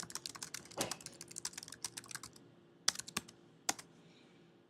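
Quiet keystrokes on a computer keyboard come in an uneven run of light taps, then a few sharper separate clicks, alone with no talk.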